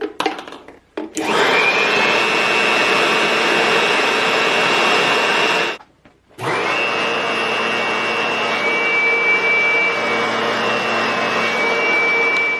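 A homemade miniature leaf blower's small motor runs at high speed with a loud, steady whirring rush of air, cutting out briefly twice before starting up again, close and with no talk.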